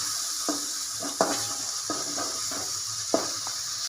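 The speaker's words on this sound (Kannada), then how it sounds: "ಇವಾಗ ಟೊಮೆಟೊ ಚಟ್ನಿ ಮಾಡ್ತಾ ಇದ್ದೀವಿ ನೋಡಿ ಈ ಥರ ಚೆನ್ನಾಗಿ ಹುರ್ಕೊಂಬಿಡೋಣ" Tomatoes sizzle in a hot pan for chutney, a steady frying hiss underneath occasional soft scrapes and knocks of a spoon stirring, close and moderately quiet with no talking.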